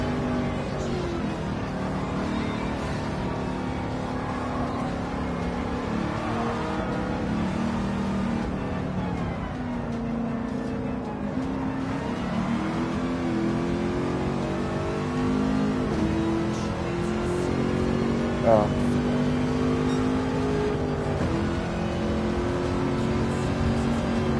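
A race car engine in Gran Turismo 7 on a five-speed gearbox drones steadily through a lap, then climbs and flares in revs after a missed shift drops it into second instead of third, staying loud and continuous with no talking.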